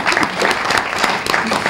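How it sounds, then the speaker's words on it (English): A conference audience applauds a speaker, a dense burst of clapping from a room full of people, loud and continuous for a couple of seconds. "round of applause for Dobie"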